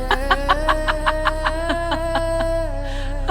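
A rooster crows in a cartoon-style sound effect, with a long crow made of rapid repeated pulses, loud and close over a faint low hum.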